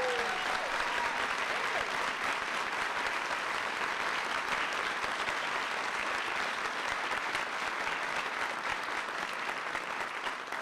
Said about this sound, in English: Give Sean a big round of applause